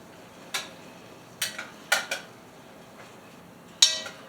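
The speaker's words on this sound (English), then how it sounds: "I'll just open up the 1 can" A can of food being opened in a home kitchen while making shepherd's pie: several sharp, close metallic clicks and clanks at irregular intervals against a quiet background.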